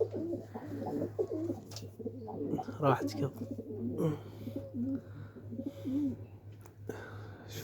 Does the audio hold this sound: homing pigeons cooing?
yes